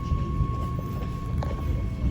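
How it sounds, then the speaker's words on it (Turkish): A train pulling into a station in Berlin, a steady low rumble and rolling noise that holds evenly at moderate loudness throughout, with no voices. "Tren geliyor ve bu son trenimiz."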